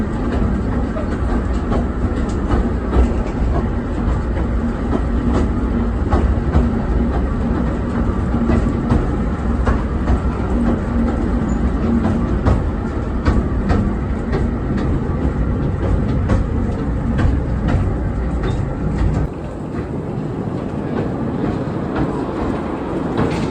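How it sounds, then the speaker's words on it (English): The Hythe Pier Railway train running along the pier, a continuous rumbling clatter of wheels on rails that stays steady for most of the time, then eases slightly near the end. "In the background is the Hythe Pier Railway, which is the oldest railway to operate on a pier"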